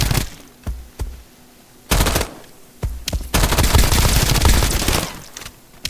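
SMG gunfire in the video game Escape From Duckov, with several short sharp bursts followed by a longer sustained stretch of rapid automatic fire, loud and close.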